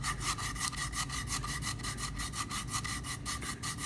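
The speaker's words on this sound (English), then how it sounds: "take a stick and glue some 120 grit paper to it and trim it down just so that it's enough to be able to get good contact inside" Sandpaper of 120 grit glued to a stick rubs back and forth inside a wooden piece, a close, steady rhythmic rasping with quick regular strokes and no talk.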